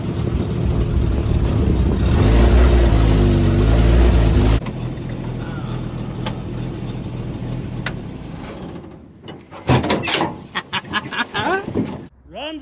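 A kustom 1954 Chevy hot rod engine rumbles and revs loudly up close for several seconds, then drops to a quieter idle, and sharp clicks and handling noises follow toward the end.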